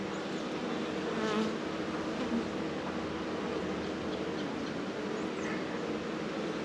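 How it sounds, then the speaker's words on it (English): A dense, steady buzzing of many bees close by at a new hive, a cluster hanging off its bottom, a continuous droning hum with no voices. "That is a bunch of bees hanging off the bottom."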